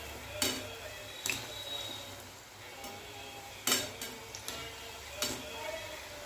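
Modak frying in oil on a low flame, with a soft steady sizzle under several sharp clinks of a utensil against the pan, as the dumplings are turned.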